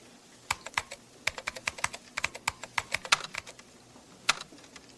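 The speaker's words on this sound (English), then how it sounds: "Type in your password." A password is typed on a computer keyboard, with a run of crisp, close key clicks in an uneven rhythm and short pauses between strokes in a quiet room.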